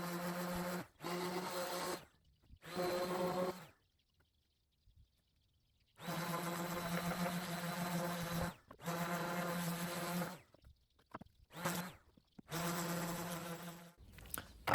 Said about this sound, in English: Using the orbital sander as a way to flatten the planks, but also remove dirt and clean them before gluing them together.